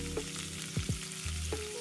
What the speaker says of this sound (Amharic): የጋለ ድስት ላይ ኦሊቭ ኦይል አደረኩኝ